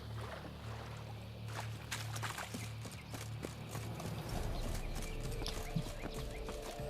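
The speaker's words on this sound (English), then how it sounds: "in the city you could only gallop with your horse" Horse hooves clip-clopping in The Witcher 3: Wild Hunt, a steady trotting rhythm at moderate level over a faint ambient game backdrop.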